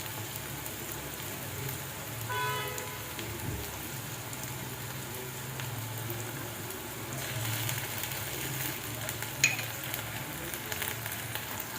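Onion with ginger garlic paste frying in a pan, a faint, even, rain-like sizzle with occasional light scrapes of stirring.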